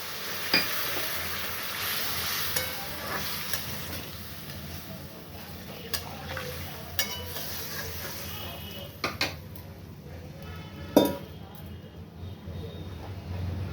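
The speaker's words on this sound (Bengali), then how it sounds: "আমি এরপরে জল দিয়ে দিচ্ছি।" Water hits potatoes frying in a pan for a potato-cauliflower curry, giving a steady hissing sizzle broken by scattered metallic clinks and taps of a utensil against the pan.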